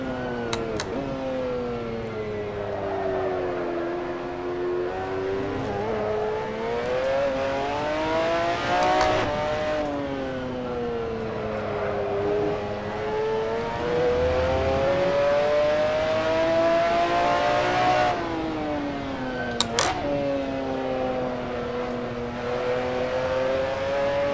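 A McLaren F1 GTR race car engine at Brands Hatch in Assetto Corsa revs steadily, with its pitch rising and falling through gear changes and a few sharp clicks. The engine is loud, close and continuous, and no one talks.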